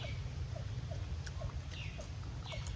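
Steady rain falling outdoors under overcast skies, a soft even hiss of drops at low volume with a few faint chirps of birds scattered over the top.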